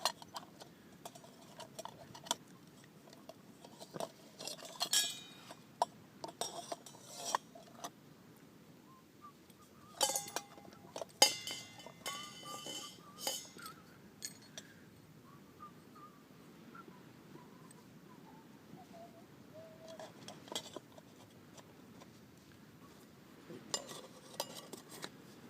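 Cooking utensils from a homemade multi-fuel stove kit, including a lighter and pan handle, clink and rattle as they are packed into a cooking pot, giving scattered metallic taps and clatters with quieter pauses between them.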